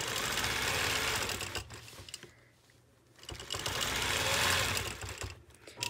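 Sewing machine quilting continuous orange peel designs, a steady fast mechanical whir that stops for about a second midway and then starts up again at full speed.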